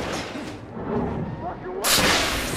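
Air blast weapon secondary fire in The Order 1886, a loud close whooshing burst that cuts in abruptly over rumbling game sounds and action.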